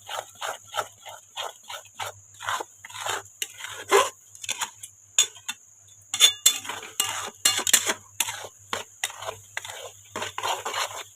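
Eggs for pav bhurji stirred in a pan, a quick run of close clattering taps and scrapes of a utensil against metal, uneven in rhythm.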